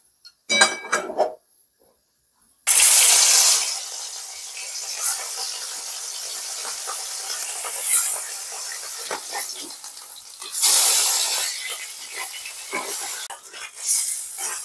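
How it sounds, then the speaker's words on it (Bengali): Katla fish frying in hot oil gives a steady loud hiss and sizzle with occasional crackles and utensil scrapes, after a brief quiet start. "কাতলা মাছটা ভাজবো।"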